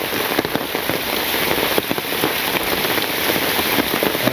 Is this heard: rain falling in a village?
yes